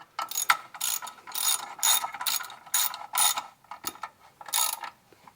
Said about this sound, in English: Just keep going all the way around until it's tight, and then we'll torque them down.